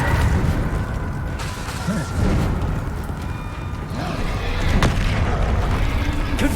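Spell blasts and explosions from the video game Hogwarts Legacy boom repeatedly through dense, loud game noise, with mechanical creaks and rumbles and a player calling out over the action.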